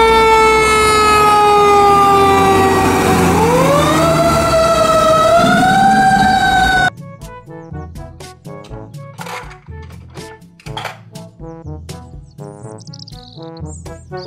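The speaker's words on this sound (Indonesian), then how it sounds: "Mobil, truk pemadam kebakaran." A loud wailing toy fire truck siren rising and falling, cutting off abruptly, followed by quieter clattering noises and faint chirps.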